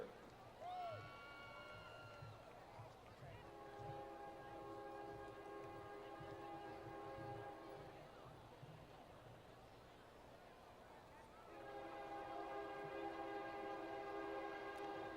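A train horn blares in long sustained blasts, fading briefly before returning loudly, over the low rumble of a passing train and faint crowd murmur at an outdoor high school graduation ceremony.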